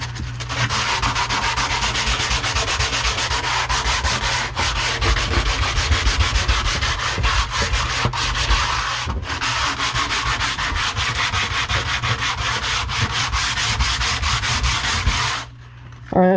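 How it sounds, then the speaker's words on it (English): Steady, continuous scraping across a wooden surface, a dense rasping texture with rhythmic strokes, loud and close, stopping abruptly near the end. "let's see if we can scrape that off."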